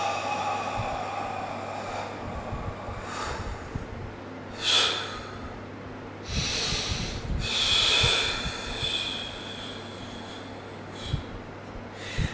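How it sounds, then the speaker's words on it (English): Sharp, forceful nasal exhales during a Wing Chun Siu Nim Tau form, several short bursts spaced unevenly and heard up close over a quiet background, with no talk. "I'm exhaling once, but I'm doing 3 or 4 breaths"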